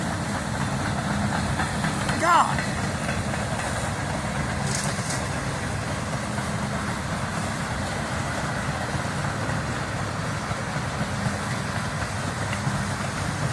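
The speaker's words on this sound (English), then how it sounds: "Train just came up on me." A freight train with a distributed power unit rumbles past close by, a continuous heavy low roar and engine drone across the whole stretch, with a brief squeal and a short spoken exclamation near the start.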